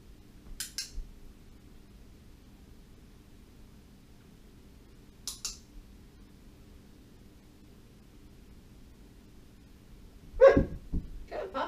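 A puppy lets out a couple of short, sharp barks near the end after a long stretch of near silence broken only by two faint clicks.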